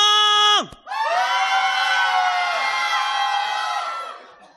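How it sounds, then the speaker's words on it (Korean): A young crowd at a Christian youth worship rally in Yeoncheon erupts in a loud, sustained shout and cheer, many voices rising together after a brief cut-off and holding for several seconds before fading. "함성!"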